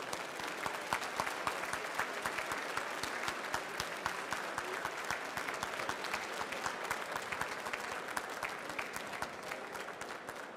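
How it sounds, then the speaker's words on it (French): An audience at a cheese and chef trophy ceremony applauds, a dense, steady wash of many clapping hands that carries on without a break. "il serait bien pour sa mémoire que vous puissiez l'applaudir avant qu'on remette ces trophées"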